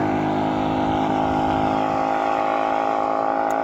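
Vehicles speed along Nanyuki Highway in the evening, a steady loud engine drone and road roar running without pause, with no voices.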